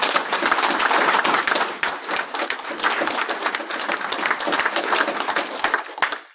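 An audience at the opening of a BSides Leeds security conference breaks into sustained applause, dense clapping from a room of people, loud and close, tapering off near the end.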